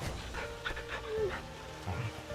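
A big dog being petted in Final Fantasy XVI pants in quick, rhythmic breaths, moderately close, with a player's voice talking over it.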